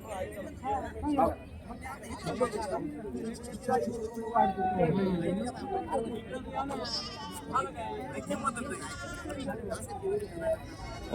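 Several goats bleat repeatedly amid a crowded outdoor goat and sheep market, with people chattering and bargaining over the animal calls throughout.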